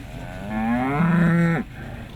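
A single cow gives a long, loud, close moo at the Clonakilty Agricultural Show in County Cork, the call rising and then breaking off sharply, with crowd murmur underneath.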